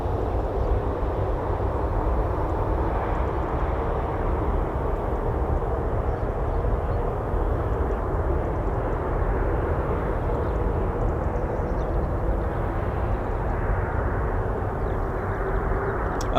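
An F-35B Lightning jet at RAF Marham produces a steady, loud engine roar that holds unbroken for the full stretch, with no voices over it.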